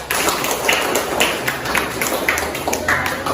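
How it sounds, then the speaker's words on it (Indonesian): A classroom of pupils claps together in a steady, rhythmic pattern, close and fairly loud, with a little talking in the room. "Kita tepuk untuk kita semua."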